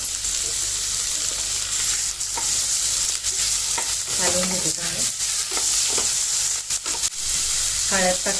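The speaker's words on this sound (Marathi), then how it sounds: "कांदा परतून घेते चांगला" Steady sizzling of onion and tomato frying in a pan for crab curry, with occasional stirring scrapes, close and continuous, with brief faint voices in the background.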